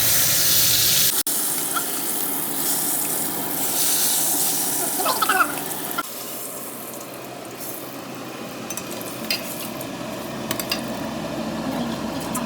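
Mushrooms frying in butter in a pan, giving a steady broadband sizzle and hiss that runs the whole time, with brief clatters and a voice heard at moments.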